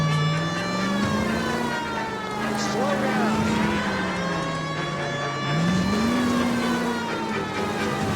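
A car engine from the game L.A. Noire drones steadily throughout, its pitch dipping and rising as the vehicle slows and accelerates, with a brief siren-like tone partway through.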